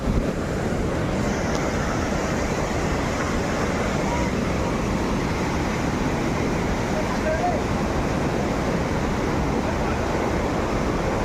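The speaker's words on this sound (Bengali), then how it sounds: "কি আওয়াজ জলে জলপ্রপাতে" Steady broadband roar of water pouring down a waterfall along a forest trail, filling the whole clip at constant loudness with no break or change.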